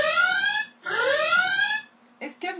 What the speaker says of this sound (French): J'attends de savoir si vous entendez le son. Je la remets au cas où...